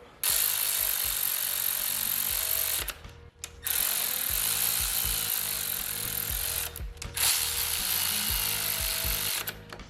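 Ratchet wrench tightening cam cap bolts on a Nissan R32 Skyline engine, rapid clicking pawl strokes in three long bursts separated by brief pauses, close and clear with no talk.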